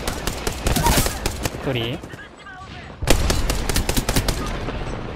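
Rapid automatic gunfire and single shots in the online battle-royale game Apex Legends, loud and close, with a brief lull before bursts resume, while a player speaks briefly.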